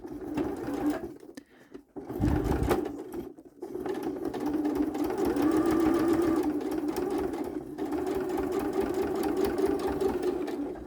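A sewing machine stitches a small fabric dog-waste bag pouch with a steady close hum and rapid needle chatter, broken by a short stop and restart early on, then running continuously.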